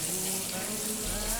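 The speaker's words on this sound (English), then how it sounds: "And then run some water" Tap water runs steadily over raw chicken being rinsed for a chicken masala, a close, continuous rushing splash heard briefly on its own.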